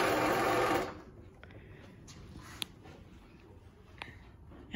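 Brother knitting machine motor whirring loudly for under a second, then stopping, followed by quiet with a few faint clicks.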